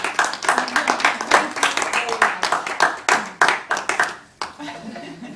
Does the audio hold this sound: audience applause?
yes